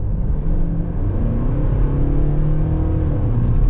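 A Mercedes-Benz V-Class van with rear-wheel drive accelerates from 50 to 100 km/h, its engine rumbling steadily and rising in a continuous, fairly loud drone heard from inside the cabin.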